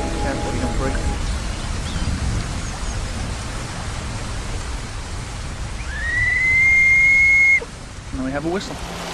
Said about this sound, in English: Now we have a whistle.